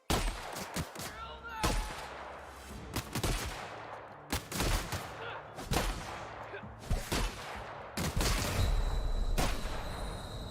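A gun fires in The Outer Worlds with several loud, separate shots spaced a second or so apart, each trailing off in a short decay, with a denser burst near the end and some speech between shots.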